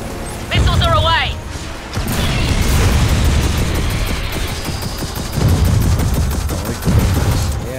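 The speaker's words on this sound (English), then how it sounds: "Missiles are away!" Missile launches and gunfire in the video game Gears of War 4 form a dense, continuous barrage of booms and rapid shots. Excited voices are heard over the barrage throughout.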